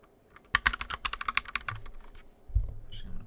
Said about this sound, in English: We'll do a typing test. This is the Gatoron brown switches, which I like them because they're a lot quieter than the blue.